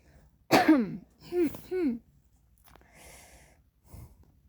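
A person coughs three times in quick succession, close and clear, then quieter breathing and rustling follow.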